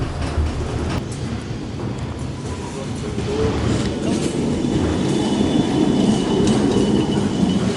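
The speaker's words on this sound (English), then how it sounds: "So they don't only have elevators to help you with the hills, they also have trams. And these trams are old." An old tram grinds uphill on a steep city street, a steady loud rumble of rail and wheels with faint squeals, swelling slightly as it goes on, with no talk over it.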